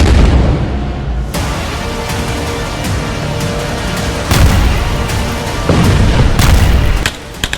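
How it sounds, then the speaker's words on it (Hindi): Israeli rocket and artillery strikes pound Gaza, loud heavy booms and sharp blasts rolling into one another over a dense roar, with fresh detonations surging in partway through. "हर मिनट इजराइल के रॉकेट हमास के किसी न किसी अड्डे को मिट्टी में मिला रहे हैं"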